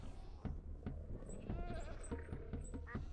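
Nanny goat bleating in the Terrafirmacraft game, a short quavering bleat in the middle over soft thumping steps and faint background tones.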